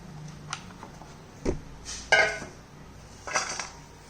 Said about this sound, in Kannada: ಫಸ್ಟು ಇವಾಗ ನಾವು ತೊಗೊಂಡಿರೋವಂಥ ಎಲ್ಲ ತರಕಾರಿನೂ ನಾನು ಈ ಬೌಲ್ಗೆ ಹಾಕ್ಕೊತಾ ಇದ್ದೀನಿ